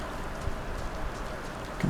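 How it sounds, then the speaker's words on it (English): Rain falls in the survival game DayZ, a soft continuous hiss of drops on surfaces, fairly quiet and steady, with a faint thump or two near the end and no talking. "So sounds like the rain's back up again."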